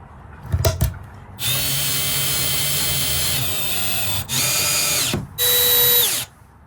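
A power drill drives screws into the back wall of a box truck camper conversion for a floating bed frame, with a short tap followed by three sustained whirring bursts that pause in between, loud and close.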